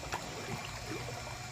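Water draining out of a concrete fish pond, a brief steady rush and trickle of flowing water heard up close with no voices.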